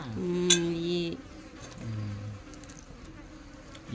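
Flies buzz close by around an outdoor crab curry meal, in two or three droning bursts that rise and fade against a quiet background.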